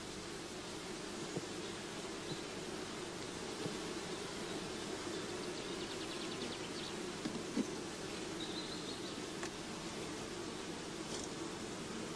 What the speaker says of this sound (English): Shaken or brushed into the funnel, the bees fall into the swarm box underneath